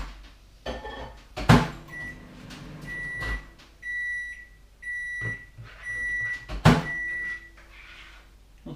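A microwave oven hums while it heats tinned baked beans, with door clunks and a run of repeated electronic beeps that start and stop in short bursts, close by and with no talking.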